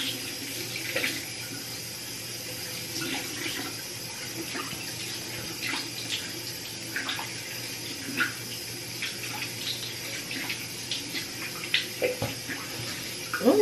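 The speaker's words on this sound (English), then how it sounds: "And I'm just rinsing off with some cool water." Cool water runs steadily from a tap during a rinse, a soft continuous splashing wash with faint intermittent drips and clatters, close but low in level.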